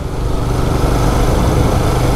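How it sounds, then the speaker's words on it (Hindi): A motorcycle engine runs steadily during a mountain ride between Uttarkashi and Harsil, a continuous close, loud drone with wind noise and no talking. "बहुत मज़ा आ रहा है यहाँ पे बाइक राइड करने में"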